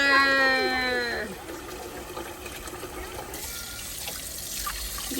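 Water running from a household tap with reduced pressure after a freeze outage in Texas, a steady close splashing trickle that continues throughout, with a tonal whine at the start.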